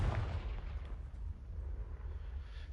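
A Confringo fire spell explodes in Hogwarts Legacy, a loud booming blast with a heavy low rumble that rolls on and slowly fades, with no voices over it.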